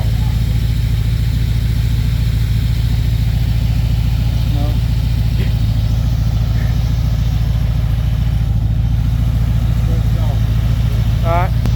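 A hot rod's roughly 300-horsepower engine with an Edelbrock Performer manifold idles with a deep, loping rumble, steady and close, while voices chatter faintly in the background.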